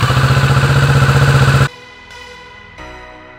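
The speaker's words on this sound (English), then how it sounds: "I'm going to start the bike, let it run for like 5 seconds" Kawasaki Z650 motorcycle engine running close and loud with a steady, fast pulsing idle, then shutting off abruptly, leaving faint clicks and quiet clatter afterward.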